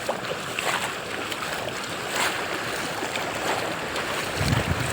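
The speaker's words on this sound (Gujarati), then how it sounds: "અહીંયા ઘણું બધું પાણી જાય" Floodwater from a burst drain rushes across a farm field, making a continuous broadband roar that stays fairly loud and even from start to finish.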